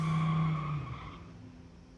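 A Corvette and a Dodge Challenger at a street-legal drag race, heard as a brief loud tire screech and engine whine that quickly fades into a distant rumble.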